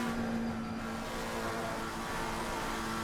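Racing car engines in a console racing game at the Nürburgring, a Mustang and a McLaren, hold a steady, dense roar with a faint whine, continuous and moderately loud for a few seconds.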